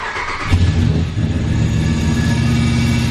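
A cammed Ram pickup truck engine cranks and fires up close by, then settles into a loud, rough, lopey idle.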